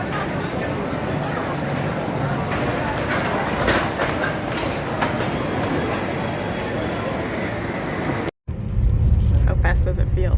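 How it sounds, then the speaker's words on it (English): A train passes close by with steady broadband rumble and rail noise, cut by a brief dropout before a louder, boomier stretch; people talk over it. "There's our train."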